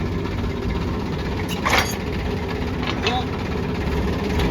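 A tractor engine idles with a steady low chugging rumble, some faint voices and clatter over it.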